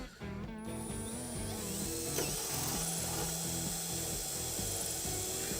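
A 2-inch hole saw grinds through material while mounting solar equipment, with a rough, rattling mechanical chatter that runs steadily for several seconds, close and moderately loud.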